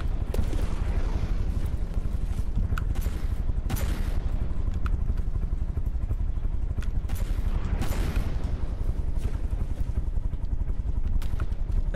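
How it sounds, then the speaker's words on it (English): Weapons fire in the naval video game From The Depths: a dense, continuous barrage of booming shots and rumbling blasts over heavy water and engine noise, loud throughout, with several sharper bursts standing out. "Keep firing."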